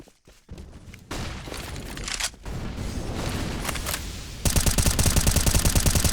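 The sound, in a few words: grenade explosions in video game Counter-Strike, map Ancient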